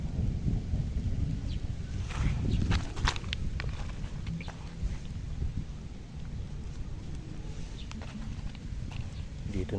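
Thunder rolls as a long low rumble through a stormy spell outdoors, mixed with rain and scattered clattering knocks. It sounds fairly loud and sustained, with some indistinct voice-like sound underneath.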